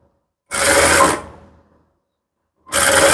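Sewing machine stitching a blouse lining piece: a loud, close whirring burst of about three quarters of a second that slows to a stop, then a pause, then a second burst begins.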